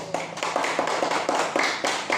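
A small group of students in a classroom claps together in a brisk, even rhythm, sharp hand claps repeating close by for a couple of seconds.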